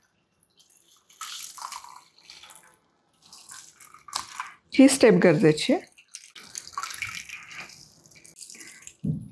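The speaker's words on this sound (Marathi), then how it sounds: "आता हे पनीर एकदा आपण स्वच्छ धुवून घेऊयात" Lemon-curdled paneer made from milk is rinsed under running water, with intermittent splashing and trickling close by while a person talks over it.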